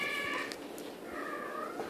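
A house cat meows twice, drawn-out and fairly close, indoors with no speech over it.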